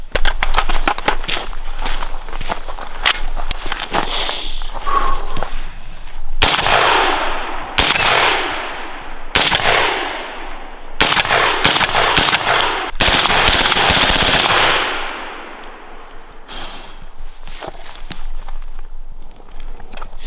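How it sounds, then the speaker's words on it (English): Loud, close bursts of 5.56 rifle fire using PPU 55 grain Rangemaster ammunition through a Huxwrx Ventum suppressor, with several shots in uneven clusters and outdoor rustle and shuffling heard between them. "We are shooting some PPU 55 grain Rangemaster ammo because that's all I can find right now."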